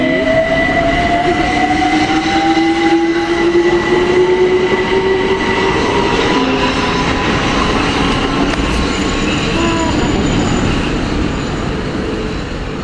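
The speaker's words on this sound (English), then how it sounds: "This is a London Overground service that's come from Clapham." A London Overground train from Clapham rolls past at close range, a loud, steady roar of wheels on rails with a rising squeal and faint rhythmic clacking, continuous throughout with no talk.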